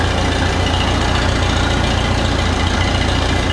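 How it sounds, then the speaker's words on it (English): Oliver 66 tractor engine running loud and close after cranking, a steady low rumbling idle that fills the whole stretch with no break, no voices over it. "See if we got crankage first."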